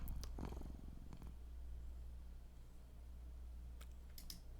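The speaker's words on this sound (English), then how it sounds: "That purring felt a little suspicious." A cat in a video game purrs in a low continuous rumble close by, with a few soft clicks and taps at the start and near the end.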